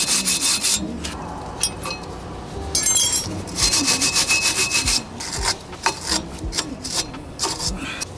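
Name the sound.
scrubbing clean a brake rotor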